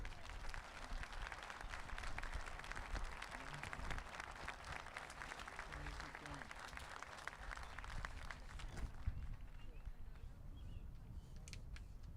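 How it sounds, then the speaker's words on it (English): Steady audience applause at a 2021 prize-giving ceremony, a dense, even wash of clapping from a large crowd lasting throughout, heard at a moderate distance. "Please give them a big round of applause."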